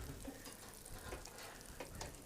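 Salmon fish cake frying in a pan, a faint steady sizzle with soft crackles and a few brief scrapes, heard alone without talk.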